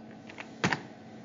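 A few soft computer keyboard keystrokes enter a numeric frequency value into a radio scanner setup, with faint isolated taps followed by a louder cluster of clicks, close and quiet against a steady background hum.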